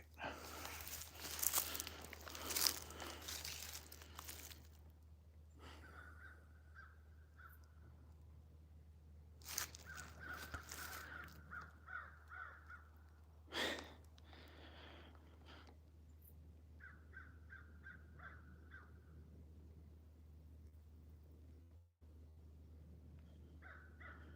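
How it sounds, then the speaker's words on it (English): Crows cawing in woodland, several separate bursts of harsh calls scattered across the stretch, fairly distant and faint over a steady low hum, with brief rustling handling noise early on. "I hear crows, obviously."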